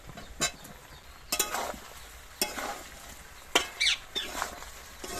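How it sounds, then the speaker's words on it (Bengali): Fried potato and radish go into meat cooking down in a pan, with several separate bursts of clattering, scraping stirring over a low sizzle, fairly close and moderately quiet. "এবার এই যে ভেজে রাখা আলু আর মূলো দিয়ে দেবো।"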